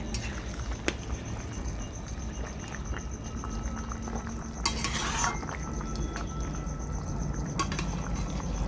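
A lid lifted off a pot of simmering chicken stew with winter vegetables: steady bubbling boil, a few light metallic clinks, and a brief bright clatter of the lid partway through.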